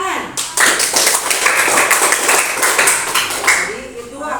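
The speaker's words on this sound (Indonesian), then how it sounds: "Ya, tepuk tangan." A classroom full of students clapping their hands gives a dense, sustained burst of applause lasting several seconds, fairly loud and close, with voices mixed in.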